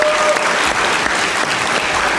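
Dense, continuous audience applause on a Pakistani comedy talk show, a loud, even wash of clapping throughout with no break.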